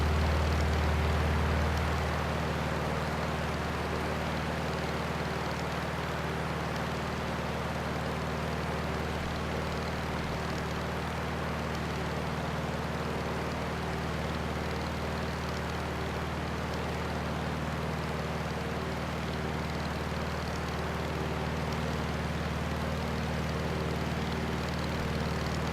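A light airplane in the Microsoft Flight video game on approach to landing, its engine a steady, close, droning hum with a constant low propeller tone that runs unbroken throughout, with no voices.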